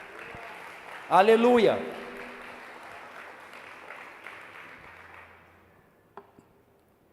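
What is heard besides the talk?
congregation applauding in church service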